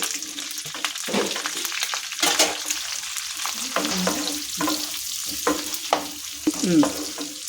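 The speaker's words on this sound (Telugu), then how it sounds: "ఇవి బాగా కొంచెం బాగా ఎర్రగా వేగాలండి" Onions and green chilies fry in hot oil with cumin in a pan, crackling and sizzling up close while a spoon stirs and scrapes in irregular bursts.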